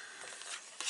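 A sharp craft knife scrapes and cuts through paper or card for a vintage baby album, a short close rasping stroke that grows louder near the end.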